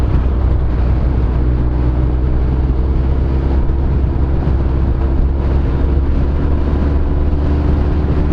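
A first-generation Suzuki Hayabusa motorcycle cruises along in traffic, its engine a loud, constant drone under heavy wind rumble, never revving hard, with no talking.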